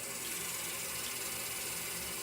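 Lukewarm water runs steadily from a tap for rinsing a face, a continuous close hiss and splash with no voices.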